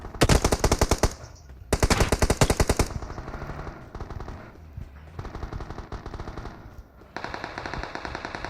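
Machine-gun fire in a shooting video game rattles out in loud, rapid bursts with quieter gaps between them, then a fresh burst starts near the end.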